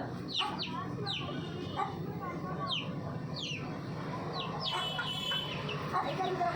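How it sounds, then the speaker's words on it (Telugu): A mother hen clucks repeatedly, calling her chicks down to feed. Her calls come in short bursts mixed with chick peeps and other fowl sounds, and human voices are heard alongside them. "అమ్మ కింద మేత ఉందని పిలిస్తే కానీ దూకలేదు"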